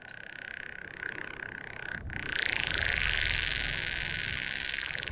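A raspy, alien-sounding noise layer split off by HALion 7's Decompose feature: a harsh, hissing texture heard alone that swells and grows louder after about two seconds, then holds steady.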